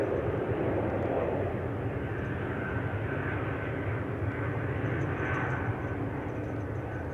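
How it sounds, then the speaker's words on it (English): A KLM Boeing 787 Dreamliner landing on runway 18 left at Amsterdam Schiphol, heard as a distant, sustained jet rumble and wash with a faint whine, steady and unbroken, no speech. "this Dreamliner is coming to 18 left"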